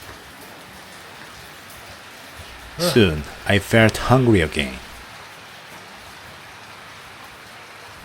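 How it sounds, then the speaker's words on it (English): Steady heavy rain patters on trees and a roof in the Thai countryside as a soft, even wash of noise, while a voice speaks briefly in the middle. "The quiet countryside was filled with the sound of rain hitting the trees and roof."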